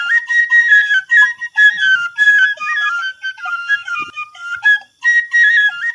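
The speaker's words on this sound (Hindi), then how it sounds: "ये धुन तो ओम की बांसुरी की है।" A bamboo flute plays a sweet, continuous melody of sustained, slightly breathy notes with short gaps between phrases, heard alone and fairly loud.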